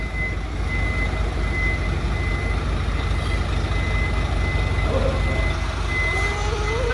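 A large ten-wheel truck reverses with steady repeating reversing beeps over a loud continuous diesel engine rumble, close by and alone without talk.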